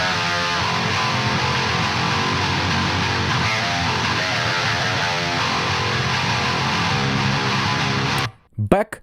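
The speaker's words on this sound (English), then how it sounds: "this Death Western plugin by Purified sounds like this." Metal electric guitar run through the Purified Death Western algorithmic amp sim plugin, churning out thick, saturated distorted riffs at steady high volume, then stopping sharply, followed by a brief burst of talking.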